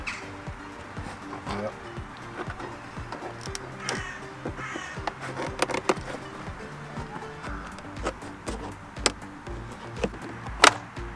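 Plastic lock clips inside the driver door of a 2006 VW Polo GTI click and crack loose as the locking mechanism is pried free: irregular close creaks and sharp snaps, ending in one loud crack near the end.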